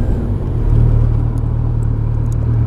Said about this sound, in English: There's that exhaust note.